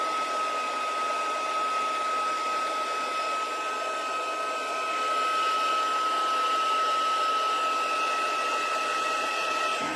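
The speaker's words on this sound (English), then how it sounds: "I don't want to dry it out with my heat tool." A crafting heat tool blowing hot air at a card-making desk, a steady close whirring fan hiss with a constant high whine, holding level for the whole stretch with no talking.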